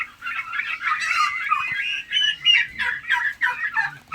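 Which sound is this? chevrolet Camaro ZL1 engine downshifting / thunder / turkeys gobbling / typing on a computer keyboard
turkeys gobbling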